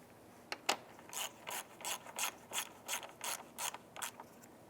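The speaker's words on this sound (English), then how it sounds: "Using our 10mm socket and ratchet, we're going to go ahead and tighten these down." A ratchet with a 10mm socket tightens radiator bolts on a 2011-2017 Honda Odyssey, giving about ten quick, evenly spaced metallic clicking bursts, close and clear with no talk.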